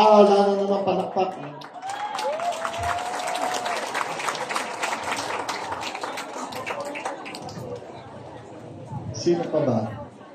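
Crowd applause at a Philippine campaign rally swells after a brief voice and runs steadily for about six seconds, mixed with crowd chatter, then fades as a speaker's voice returns.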